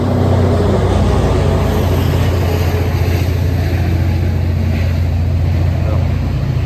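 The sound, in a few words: loud engine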